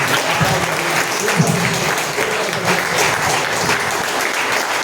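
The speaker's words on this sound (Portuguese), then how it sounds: "Você pode aplaudir ao Senhor bem forte" A church congregation applauds loudly during an evening worship service, a thick, sustained roar of clapping from many hands filling the room without pause.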